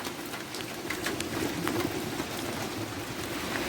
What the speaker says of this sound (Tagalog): Ayun, mga ulan.